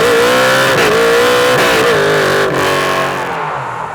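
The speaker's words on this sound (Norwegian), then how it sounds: "Den motoren som sitter her nå, det er en såkalt Big Bore 302, altså en Ford Racing Block med 125 bor på stemplene sine." A 1967 Ford Mustang Fastback with a Big Bore 302 Ford Racing V8 engine runs loud and close, its revs rising and dipping in a steady, throaty rumble that eases slightly toward the end.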